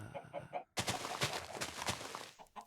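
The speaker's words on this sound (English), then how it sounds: "Is that another chicken? Come to me, little chicken." Chickens clucking in a farming video game, several short bursts of fowl calls and flutter close up, mixed with busy game noise and a loud burst of overlapping sounds.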